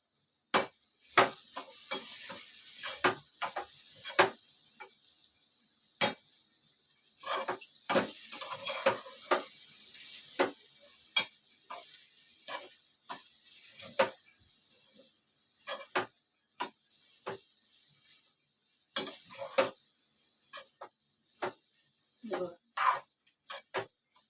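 Egg bhurji with fresh coriander stirred in a pan, a spoon scraping and tapping the metal in a quick, irregular run of sharp clicks over a faint sizzle, close and alone with no talk.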